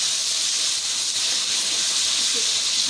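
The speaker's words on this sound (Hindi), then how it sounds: "भूनते हैं 2 मिनट के लिए" Chicken jalfrezi with ketchup fries over a full, high flame, giving a steady, loud, even hiss that runs unbroken from start to finish without any talk.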